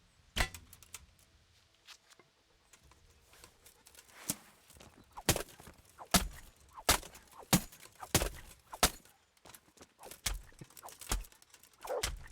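Hooves clip-clop in a run of sharp, loud thuds from a horse in the medieval video game Kingdom Come: Deliverance, starting sparse and quickening into a close, rhythmic burst.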